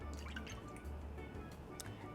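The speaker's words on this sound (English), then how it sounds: "first we're getting some milk, some evaporated milk and brown sugar into this bowl" Evaporated milk pours into a bowl for cassava pone, heard as faint wet dripping and liquid trickling close by against a low background hum, with no talking.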